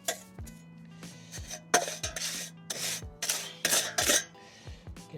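Sand being spread over a block paving path with a float, a series of close, uneven scraping and rasping strokes with occasional light gritty clinks, no voices.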